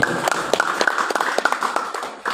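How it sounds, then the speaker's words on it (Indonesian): An audience at an IKDST halal bil halal gathering in Ciawitali, Subang, applauds in a steady patter of many hands, fairly loud and close, with a whistle-like tone sounding through it. "Tepuk tangan dulu buat IKDST."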